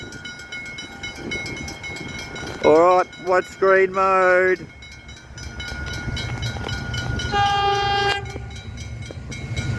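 An Australian steam train rumbles along at Dandenong while its whistle sounds in several loud, drawn-out blasts; a person speaks briefly beneath the noise.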